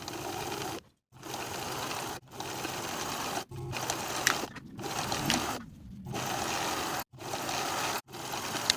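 A sewing machine stitches the seam of a pajama neckband in a series of steady whirring bursts separated by short pauses, close and fairly quiet.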